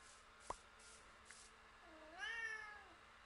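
A cat meows in the VR Minecraft video game, a single rising and falling wail near the end, preceded by a few faint clicks, quiet with no speech.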